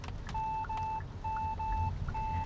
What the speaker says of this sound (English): The beeping sound is something that I don't like